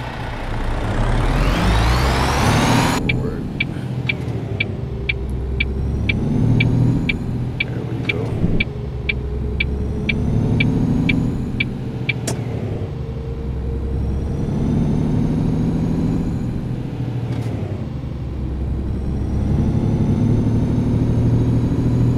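A heavy truck engine in Truck Simulator revs and accelerates with a steady, loud low rumble and rising pitch throughout, a regular ticking indicator clicks over part of it, and someone talks over the engine.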